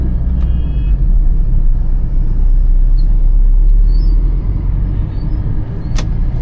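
A car engine pulls away in first gear on an early-morning Chennai road, a steady loud low rumble that holds throughout, with a bus nearby and a brief air-brake hiss near the end.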